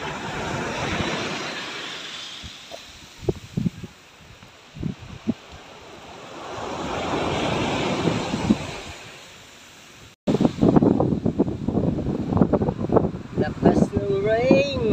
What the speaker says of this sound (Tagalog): Lakas ng rain at lakas pa ng hangin guys.